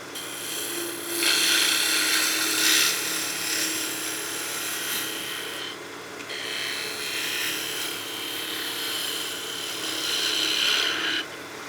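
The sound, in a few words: wood lathe turning a spinning top with a gouge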